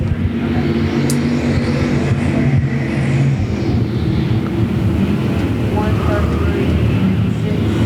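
Stock race cars at Devil's Bowl Speedway roar together at the green flag start, a loud sustained engine drone with rising revs, under a public-address announcer talking.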